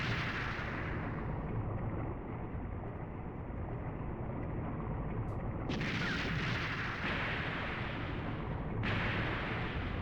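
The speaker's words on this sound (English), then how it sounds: "While we're getting bombed." Steady, dense rumble of bombing explosions in the PS1 game Thousand Arms, continuous and loud throughout with slight surges, without separate distinct blasts.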